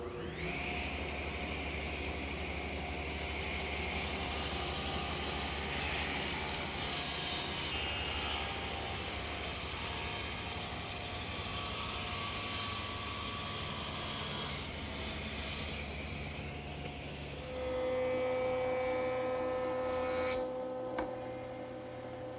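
A table saw fitted with a taper jig rips a taper cut along a length of stock, its loud, steady whine running close for about twenty seconds, dipping and changing tone as the blade works through the wood, then the pitch shifts near the end.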